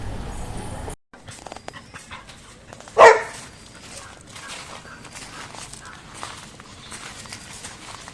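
A St Bernard dog waits eagerly for pumpkin food, giving a single short bark or whimper near the middle amid faint background sounds and shuffling footsteps.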